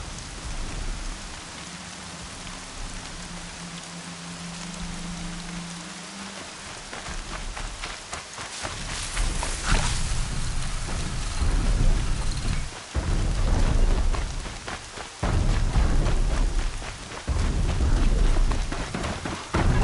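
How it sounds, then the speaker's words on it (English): Steady rain and rumbling thunder from a storm in the video game Horizon Zero Dawn, with heavy patter throughout and low thunder rolls building and swelling over the roughly twenty seconds, heard alone without talk. "I wonder if it's a big storm this time."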